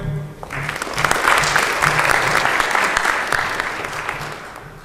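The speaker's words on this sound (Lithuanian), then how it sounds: "Plojimai." Applause from the audience at a Kaunas mayoral candidates' debate on sports and health policy: a sustained wave of many hands clapping in a hall, rising quickly and holding steady for several seconds.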